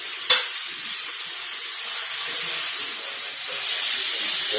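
Meat searing in a black cast iron skillet gives off a loud, steady sizzle and hiss, opening with a sharp contact sound as it hits the hot pan, then a sustained fry that swells slightly toward the end.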